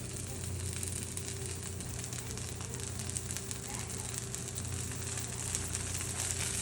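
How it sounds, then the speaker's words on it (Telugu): Patties frying in oil in a pan for ragada, a steady close sizzle and crackle running throughout under a low hum, with voices talking over it. "దీంట్లో కొంచెం ఆయిల్ వేస్తే ఇవి కూడా 2 పక్కల ఫ్రై అవ్వాలి"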